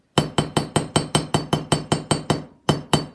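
Steady series of about thirteen sharp metallic hammer strikes on jewelry wire being work-hardened, evenly spaced and loud, with a brief pause before the last two blows.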